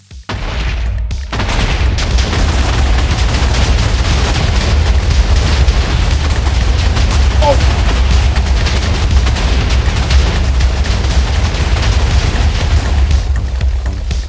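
A Minecraft TNT explosion sets off a loud, sustained roar of booming blasts that rumbles continuously for over twelve seconds after a brief quiet start.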